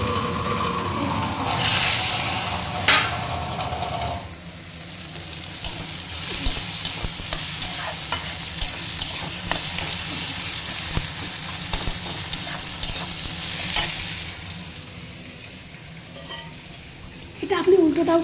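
Tadka sizzling as dal is tempered in a Bengali home kitchen, a loud hiss and crackle at the start that settles into a softer, steady sizzle with stirring, under light background talk.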